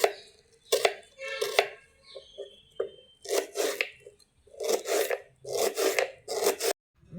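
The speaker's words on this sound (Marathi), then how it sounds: "कांदा बारीक चिरून घेऊ." A knife finely chops an onion on a board, giving close, crisp bursts of cutting in quick uneven runs with short pauses between them.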